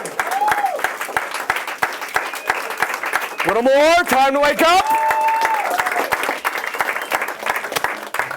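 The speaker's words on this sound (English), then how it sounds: "loud round of applause" A comedy show audience applauds with dense clapping throughout, while a voice speaks over it and a brief rising electronic warble cuts through midway.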